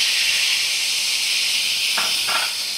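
Hot pot of vegetable pulao with rice, water poured in: a loud, continuous steamy hiss throughout, joined near the end by two brief scraping stirs.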